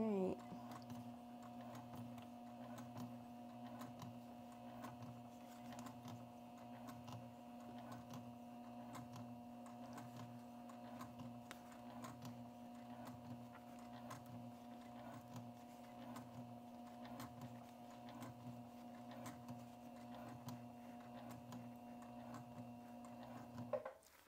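A sewing machine stitches slowly while a fabric foldover piece is made, giving a steady, even mechanical hum with a faint regular ticking pulse, moderately quiet and continuous throughout without talk.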